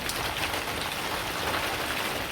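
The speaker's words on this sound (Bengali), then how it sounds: "ঝাঁকে ঝাঁকে বৃষ্টি আহে অনকাল বৃষ্টি" Heavy monsoon rain pours on a village, a dense, even hiss of drops drumming on surfaces, steady and fairly close, with no talking.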